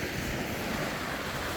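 Ocean waves wash on the shore at Miscou Island, a continuous broadband roar of surf mixed with wind buffeting the microphone, loud and steady with no talk.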